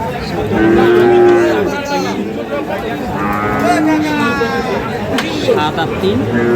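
Sahiwal bulls at a busy cattle market moo in long, loud drawn-out calls, two or three close by, over the babble of people talking and bargaining.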